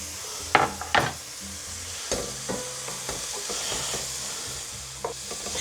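Chopped leek and pressed garlic fry in a soup pot while a spoon stirs them, giving a steady low sizzle with a few sharp scrapes and clinks early on and soft stirring knocks throughout, close and with no talk.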